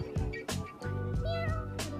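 A cat meows several times close by in a village on the Surin Islands, with drawn-out, wavering cries and a short break between calls.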